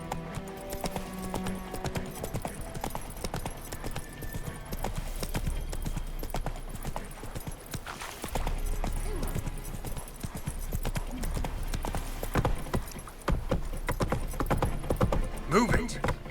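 Horse hooves clip-clop steadily on the ground in The Witcher 3: Wild Hunt, loud and continuous under game music and ambience for the whole stretch, with a brief voice.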